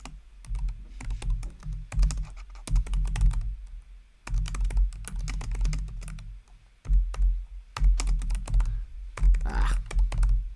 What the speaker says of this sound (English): I'm looking and typing at the same time.